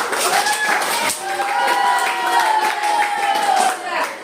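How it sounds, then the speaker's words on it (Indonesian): Group clapping in a class on computational thinking with Python: irregular claps mixed with crowd voices and a sustained tonal voice-like sound running through the middle. "Tepuk tangan untuk kita semua"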